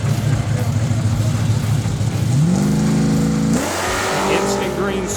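An Oldsmobile 442 drag car launches at a drag race, its loud engine roaring steadily and then climbing sharply in pitch as it accelerates away, with a track announcer talking over the sound throughout.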